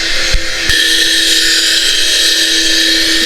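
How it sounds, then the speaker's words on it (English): A leaf blower runs outdoors on a walkway in Palm Springs, a steady, loud, high-pitched whine that holds for several seconds with no pause, close and alone. "I guess it's somebody using a leaf blower to"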